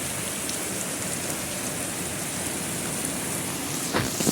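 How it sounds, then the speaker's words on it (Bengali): Steady rain pours down on a rooftop, a dense, even hiss that stays close and constant, with a brief bump near the end and no voices. "বর্ষাকালের থেকে বেশি তো যখন তখন এমনি বৃষ্টি হয়।"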